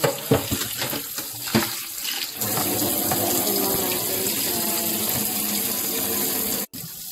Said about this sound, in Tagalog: lalagyan ko siya ng tubig ngayon